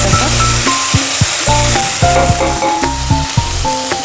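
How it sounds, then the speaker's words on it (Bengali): Spice paste frying in a pan for a spinach chicken curry, a steady close sizzle with spoon scrapes, partly masked by rhythmic background music. "একটু ভাজা ভাজা করতে হবে"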